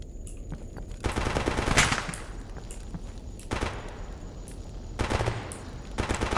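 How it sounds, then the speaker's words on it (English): Automatic and rifle gunfire in the video game Escape From Pripyat, with rounds punching through a wall; bursts of sharp shots recur across the clip, some loud and close, others fainter between volleys. "I think that's bullets going through the wall, not like from the window towards me"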